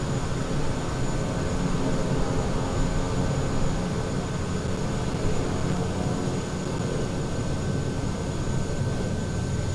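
Steady airliner jet engines hum and roar while taxiing toward the runway at Carlisle airport in Microsoft Flight Simulator, a continuous even drone with a faint high whine, no talk.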